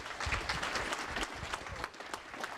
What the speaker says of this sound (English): So I want to give Coach Dantine a round of applause